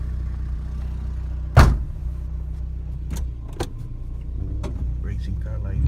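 A 1990 Mazda 323 rumbles at a low, steady idle before heading out for a drive, heard from close by, with one sharp clunk near the start and a few small clicks and knocks scattered over the engine hum.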